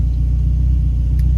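A Mazda Miata engine idling steadily with the heater running, a continuous low rumble with a regular throb, close and unchanging throughout, with no talk.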